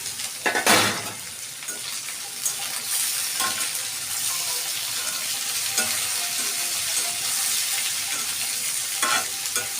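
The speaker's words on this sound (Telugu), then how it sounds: "ఇలా కలుపుతూ ఉండాలి, లేదంటే మాడిపోతాయి." Thinly sliced onions sizzle steadily as they fry in a pan, with repeated scraping stir strokes from a spoon against the pan throughout. No one speaks.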